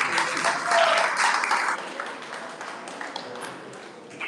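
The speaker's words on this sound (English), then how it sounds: "Please, a round of applause for that one." An audience at a school science day celebration applauds, a dense wash of clapping that swells early and then gradually thins and fades.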